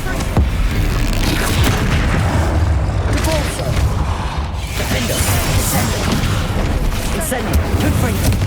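The Bombardo spell explodes in Hogwarts Legacy, a dense, loud blast of booming impacts over constant rumbling game noise and mechanical clatter, with spell-casting voices in the mix.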